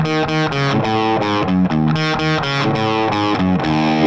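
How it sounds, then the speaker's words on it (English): An electric guitar plays a distorted riff through a delay pedal with a little reverb, loud and steady, with repeated chord stabs ringing into echoing tails. "They've got the delay pedal there and a little bit of reverb as we've discussed before, and then we hit this again."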